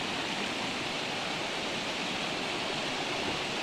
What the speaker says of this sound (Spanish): Y aquí vemos cómo viene bajando la creciente del Río del Diamante